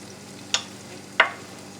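Burdock and onions fry over medium heat in a pan with a soft, steady sizzle, broken by two sharp scraping stirs about half a second apart.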